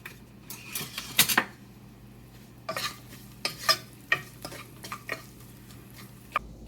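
A shallot sautés in olive oil in a pan, a faint low sizzle under quiet, irregular clinks and scrapes of a utensil stirring against the pan.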